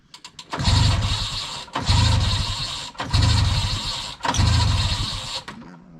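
A vintage Ski-Doo snowmobile engine is being choked and cranked, catching in four loud bursts of about a second each. Each burst revs briefly and then drops away before the next attempt, with no voices in between.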